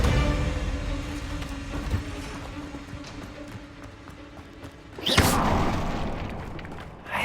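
Descendo spell slamming an enemy down in Hogwarts Legacy: deep booming thuds amid dense game audio, with a loud broadband crash and rumble bursting in near the end.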